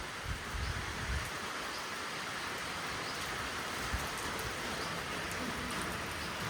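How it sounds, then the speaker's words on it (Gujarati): Soft, steady rainfall patters continuously in the background, faint and even throughout with no voices. "વરસાદ આવી ગયો છે"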